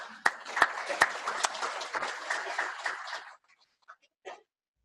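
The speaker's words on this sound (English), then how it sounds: "Another round of applause." A conference audience applauds in a crowded hall, a dense patter of many hands clapping with a few sharp nearby claps, lasting about three seconds before stopping abruptly, followed by a couple of faint stray noises.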